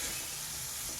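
Tomatoes frying in a pan for a homestyle dhal, giving a steady broadband sizzle that stays even and close throughout, with no voices.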